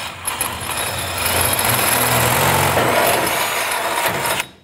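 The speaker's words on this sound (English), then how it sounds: "So I just drill the pilot in order to keep this on track." A power drill boring a pilot hole into a cabinet, a loud steady whirring run of about four seconds that cuts off abruptly at the end.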